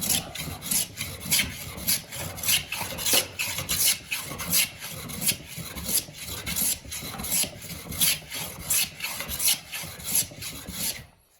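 A finishing plane is drawn again and again across a rough wooden surface to level it, giving a series of rasping, scraping strokes in a loose rhythm, close and fairly loud, with no talk.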